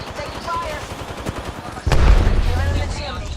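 Gunfire in a video game firefight comes as a single sharp shot followed by a heavy, booming burst of fire that lingers, with softer game sounds and faint background activity before it.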